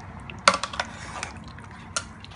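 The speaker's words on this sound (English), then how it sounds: "So I'm mixing it very subtle, like subtle strokes." Egg bhuna curry being stirred gently in a pan with subtle strokes around the edges: a few soft scraping clinks of a utensil against the pan, spaced out over a low simmering hiss.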